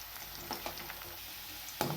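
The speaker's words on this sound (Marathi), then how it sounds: "कढाईमध्ये फक्त हा आपल्या हातातला झाऱ्या किंवा जे काही वस्तू असेल आपल्याकडे ती फक्त अशी फिरवत राहायची, म्हणजे तुमचा कांदासुद्धा छान असा तळला जातो." Onions for chicken dum biryani fry in oil in a kadhai while a slotted spoon stirs them. A quiet, steady sizzle carries soft scraping clicks and one sharper knock near the end.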